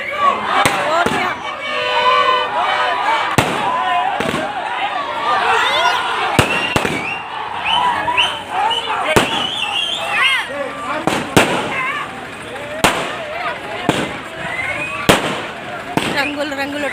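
Firecrackers and fireworks bursting at a festival procession, sharp irregular cracks and bangs repeating throughout, fairly close and loud over crowd noise and chanting voices.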